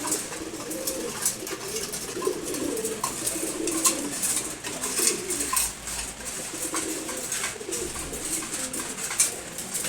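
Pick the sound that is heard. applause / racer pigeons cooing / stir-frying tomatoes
racer pigeons cooing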